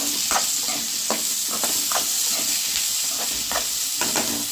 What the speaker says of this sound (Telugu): క్యారెట్ అలానే టమాటా పచ్చిమిర్చి మొత్తం వేసుకొని ఒక రెండు నిమిషాలు తిప్పుకున్నాం